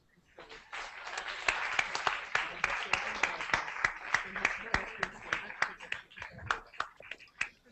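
A small audience at a linked-up event applauds quietly, and the separate sharp claps stand out individually in an uneven rhythm before the clapping tapers off.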